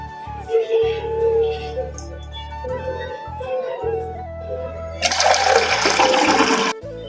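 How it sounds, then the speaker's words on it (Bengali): Water pours into a potted plant in a loud, rushing splash lasting about two seconds, following a stretch of voice and tonal sound indoors. "সো এখন আমি পানি দিব গাছটায়।"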